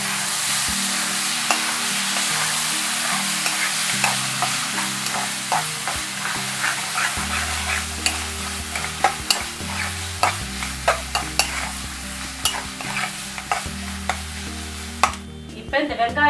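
Onion, tomato and ginger sauté in a pan for prawn thokku. A spatula stirs with repeated scrapes and clacks over a steady close sizzle, and faint background tones sit underneath.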